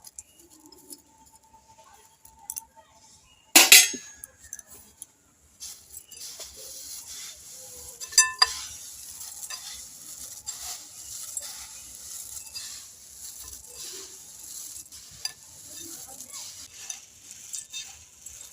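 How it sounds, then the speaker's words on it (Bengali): Jhal muri, puffed rice tossed with spices, being mixed by hand: soft rustling, crackling stirs that come in uneven bursts, fairly close and quiet, with a sharper clatter near the start. "এবার ভালোভাবে মিশিয়ে নেব হাত দিয়ে মেখে নেব"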